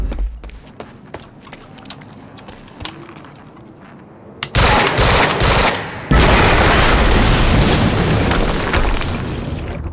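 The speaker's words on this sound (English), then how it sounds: "HQ, we just heard an explosion near the harvesting perimeter." An explosion erupts in the action video game Quantum Break: scattered sharp impacts and thuds give way to a loud sudden roaring blast that stays dense and loud, briefly dipping and then surging again.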